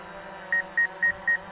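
A drone's obstacle-sensing warning beeps four times in a steady, evenly spaced rhythm, short, clear electronic tones over a constant background hum while the drone is held flying forward toward an obstacle.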